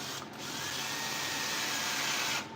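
A power screwdriver driving a screw in a workshop, a steady, close whirring motor drone that runs for over two seconds before cutting off, with no talking over it.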